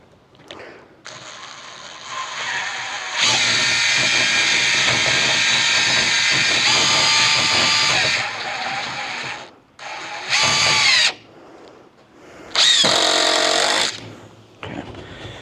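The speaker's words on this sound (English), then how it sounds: "AKA impact driver" An impact driver whirs and rattles in long sustained bursts, then shorter bursts with pauses between, close and loud, driving screws while building a display roof.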